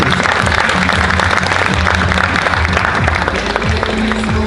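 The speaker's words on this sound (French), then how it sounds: "Et là on peut les applaudir pour l'abdo cuisse." An audience at a regional bodybuilding competition claps for the competitors, dense continuous applause that carries at full volume for several seconds, with some low tones running underneath.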